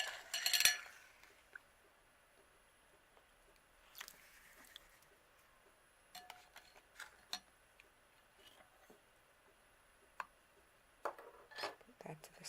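Coconut oil and sea salt body polish is spooned back into its container, giving soft close scrapes and light taps of the spoon with faint whispery handling in a quiet room.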